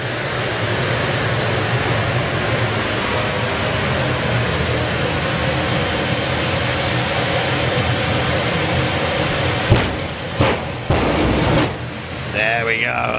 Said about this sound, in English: Next pulse of the afterburner will be a lot stronger and a lot louder.